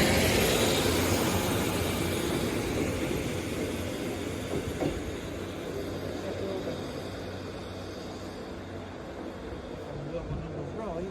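A Class 150 diesel multiple unit train idles and rumbles close by at a platform at Worksop station, its engine drone steady and gradually easing, with no voices.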